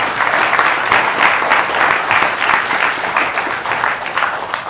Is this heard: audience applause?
yes